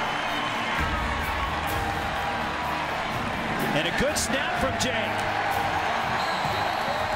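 A live college football game crowd at a USC game roars and cheers in a broad, continuous wash of noise, loud and far-spread, with an announcer talking over it throughout.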